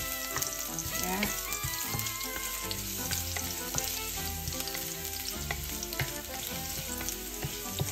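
Garlic and bitter melon sizzling steadily in a hot pan for ginisang ampalaya, a continuous loud frying crackle with occasional stirring clinks, close up and without talk.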